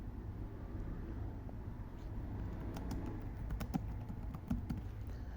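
Keys clicking on a computer keyboard while code is typed, a quiet run of light taps that grows busier and sharper toward the end over a low background hum.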